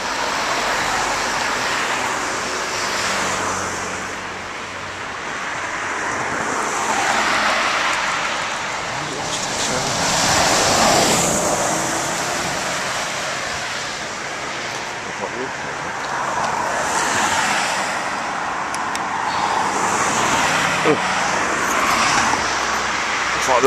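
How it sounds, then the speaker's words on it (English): Road traffic passes on a busy, cold, dark morning near a park, cars swelling and fading one after another in a continuous roar at moderate distance. "More traffic than when I came out the other morning."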